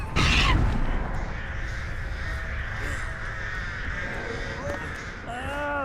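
Crows caw repeatedly in a masquerade-themed video game, harsh calls rising over a busy ambient game soundscape with an early loud burst, while a player talks over it.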